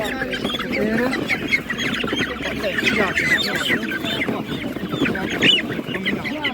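Dense chorus of chickens clucking and squawking continuously, close by, at a livestock market, with a busy crowd murmuring underneath.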